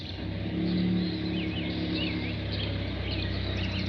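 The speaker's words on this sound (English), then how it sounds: "Dude, a car." A car drives past with a steady, fairly loud engine and road roar that holds through the whole stretch, while faint birdsong chirps float above it.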